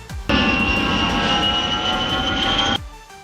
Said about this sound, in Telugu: ముందు చూడరా, విమానం.